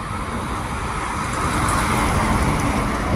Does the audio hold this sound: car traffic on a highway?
yes